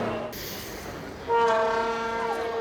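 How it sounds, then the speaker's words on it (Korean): A train pulls into a station, its horn sounding a long, loud, steady tone over the rumble of the cars. "드디어 열차가 들어오고"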